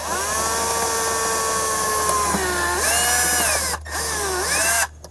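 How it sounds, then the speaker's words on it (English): A power drill fitted with a 5/64 bit bores a hole in the back of a box on a 2006 Toyota Tundra, its motor whining steadily and close, with pitch dips as the bit loads up and two brief stops near the end. "we're going to drill a 5/64 bit in the back of this box"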